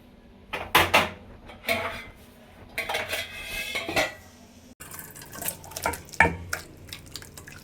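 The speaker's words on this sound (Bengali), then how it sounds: "এবার এটা আমি একটা পাত্রে ঢেলে নেবো যে বাটিটায় মাছ ভেজে রেখেছিলাম সেটাতেই ঢেলে নেবো" A cooked small-fish dish scraped from a pan into the bowl used for frying the fish, with clanking utensils and metal-on-metal scrapes in uneven bursts, close by.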